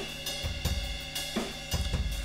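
Drum kit heard through a distant room microphone channel, with roomy, boomy low end and washed-out hits; kick and snare strikes land irregularly over a sustained ringing tone, with no talk.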